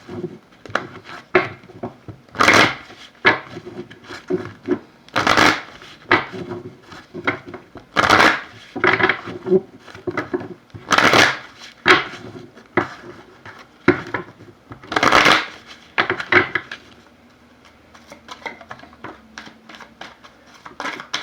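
A deck of romance angel oracle cards is shuffled by hand: crisp riffling bursts and soft taps repeat every few seconds up close, then taper into quieter handling.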